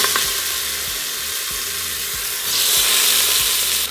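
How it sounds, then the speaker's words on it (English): Pork searing in an Instant Pot for crispy carnitas, a continuous close sizzle that brightens and grows louder partway through, with faint low knocks underneath. "now we are ready to begin searing"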